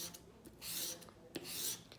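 Metal wood-carving gouge rubbed against sandpaper to sharpen its edge, two long rasping strokes with brief scrapes between, close and moderately loud with no talk.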